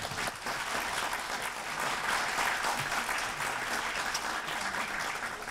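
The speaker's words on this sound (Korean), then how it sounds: "저는 그래서 힘찬 박수를 드립니다" An audience at a 2019 Korean venture startup promotion awards ceremony gives sustained, even applause that fills the hall, a thick wash of clapping from many hands, heard at a distance.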